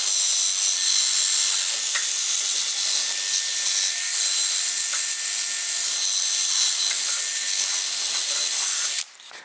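A 14.4 volt cordless drill spins a wire brush against a Ford Fiesta front wheel hub, giving a continuous loud, harsh scraping whir for several seconds before stopping abruptly.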